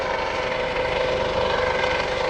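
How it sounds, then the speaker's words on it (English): US Coast Guard search and rescue helicopter at a lakeside airshow, a steady loud rotor and turbine roar holding constant and close throughout, with no voices. "This helicopter will pick up a fair amount of speed"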